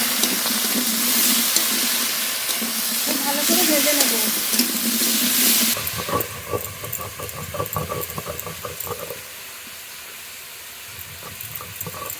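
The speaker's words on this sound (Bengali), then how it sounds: "কেটে ধুয়ে রাখা ফুলকপি আলু একসঙ্গে ভেজে নেবো" Cauliflower and potatoes fry together in hot oil, a loud hiss of sizzling for several seconds, then quieter bubbling with clinks and scraping as the pan is stirred.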